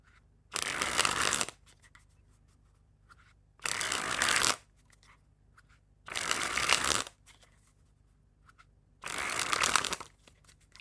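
Dark Echo Smoke & Mirrors playing cards shuffled up close in four separate bursts of riffling, each about a second long, with quiet pauses in between.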